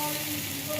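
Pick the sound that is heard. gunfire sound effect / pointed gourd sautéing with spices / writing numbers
pointed gourd sautéing with spices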